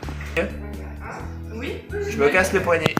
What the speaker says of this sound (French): Ça, c'est un chien en souffrance.